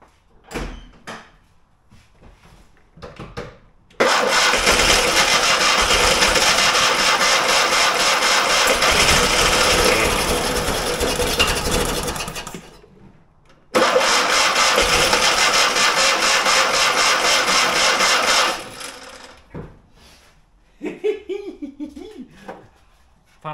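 Old Fiat 126 barn find, its small engine cranking then catching and running loudly for several seconds, stalling, then firing up again and running before cutting out, with quiet clanks between.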